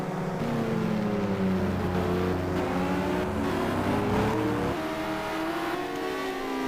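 Audi and Lamborghini GT2 race cars roar past on a circuit, their engines loud and sustained with shifting revs as they battle for position, one engine note dropping away near the end.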